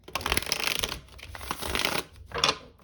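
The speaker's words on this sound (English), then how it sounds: "Okay, we'll do one final shuffle." Tarot cards being shuffled in several quick riffling bursts, close and crisp, with brief pauses between them.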